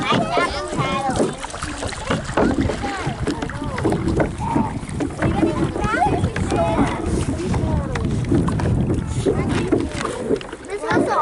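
A boat being paddled on water, with splashy strokes and rushing wind noise buffeting the microphone, while adults and children talk over it throughout.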